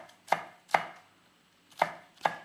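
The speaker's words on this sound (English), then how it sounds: "Now we're gonna chop our fresh chilies." A knife chops fresh green chilies on a board in four crisp, distinct strokes, two close together and then a pause before two more, close and clear with no talk.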